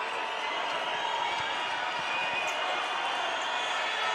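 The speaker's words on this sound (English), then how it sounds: "you can hear the crowd is so unhappy with that call" Home crowd at an under-17 Spain v Australia basketball game booing an offensive foul call, a sustained, dense roar of displeasure filling the arena, loud and unbroken throughout.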